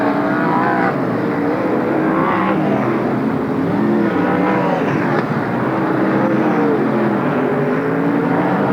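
Stock cars and 360 sprint trucks racing around the Marysville, California track, a loud sustained roar of several engines droning and revving together as the pack circles, dense and unbroken throughout.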